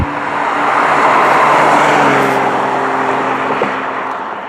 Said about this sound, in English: So that's the BMW M2.